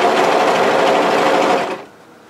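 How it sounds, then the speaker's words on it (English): A sewing machine stitches the edge of a relaxed-fit sweatshirt made from sweatshirt fabric. It runs as a loud, steady, close whir and then stops abruptly near the end. "then I'm stitching on the edge."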